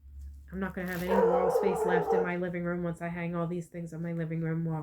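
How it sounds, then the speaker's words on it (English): A hyper dog barks indoors in a living room, its sharp yaps cutting in a few times beneath a woman's steady, continuous talking. "Sorry for the dog barking again."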